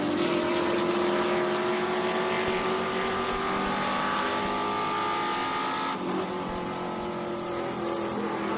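Trans Am TA2 race cars lap Sebring during a practice session, a loud continuous engine roar with rising and falling pitch as cars pass, tires squealing faintly.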